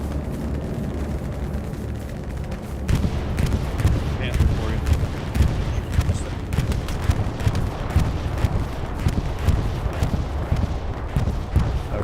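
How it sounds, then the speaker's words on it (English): Explosions and gunfire rumble through a World War II battle in the video game Hell Let Loose on the Eastern Front, a dense, continuous barrage of booms and crackling shots with a voice talking over it. "I heard explosions behind me."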